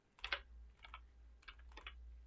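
Quick bursts of computer keyboard typing, four short clusters of clicking keys, close and fairly quiet against a low steady hum.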